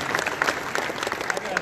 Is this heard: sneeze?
no